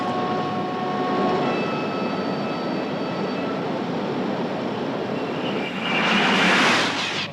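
A TGV high-speed train on an SNCF speed test runs at over 370 km/h, making a continuous rushing roar with thin whining tones that swells louder near the end.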